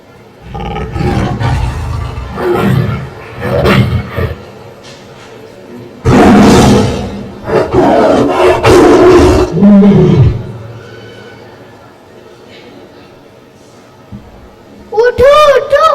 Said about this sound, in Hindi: उठो उठो, बाघ आया, भागो भागो।